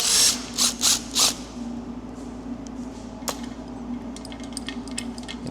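A hand ratchet unbolting a fence attachment on a waterjet cutter, four quick bursts of clicking near the start, then a sharp metallic tap and faint scattered clicks of handling.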